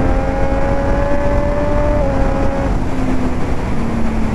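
A 2019 Triumph Street Triple 765 RS three-cylinder motorcycle engine revs steadily and loudly, its pitch holding then easing slightly, a constant close mechanical drone throughout.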